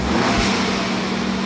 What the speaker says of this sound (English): We're going to give it some revs.